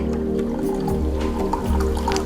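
Cooled boiled water poured into a wine bottle over spices such as cardamom and cloves, a steady filling gurgle that runs close and loud for the whole stretch with no talk.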